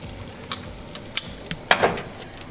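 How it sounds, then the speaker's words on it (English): Lobster and squid tossed in a frying pan for a cheesy seafood pasta, a soft steady sizzle broken by a few sharp scrapes and clatters of the pan and utensil, close and without speech. "I'm gonna focus my attention on the lobster and the squid. And, you know, we're gonna tussle it like so"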